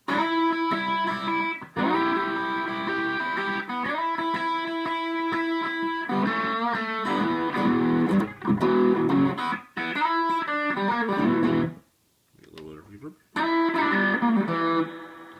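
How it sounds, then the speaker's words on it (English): An electric guitar plays sustained chords and riffs through a Tube Screamer overdrive pedal on a Boss ME-80 multi-effects unit, warm and gritty, with a few brief pauses between phrases. "here's the tube screamer section"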